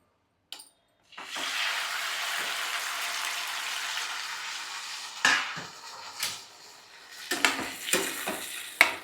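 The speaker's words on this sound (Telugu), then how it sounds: "ఇప్పుడు ఇదే ఆయిల్లో టమాటా ముక్కల్ని వేయించుకోవాలి" Tomato pieces hit hot oil with a loud, steady sizzle that gradually eases, followed by several scraping stirs of a spoon against the pan.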